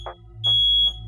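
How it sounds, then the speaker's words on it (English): A bedroom smoke alarm mounted above a child's bed sounds a piercing high electronic beep, steady and loud, with short chirp bursts at regular intervals and no talking. "We set off the fire alarm."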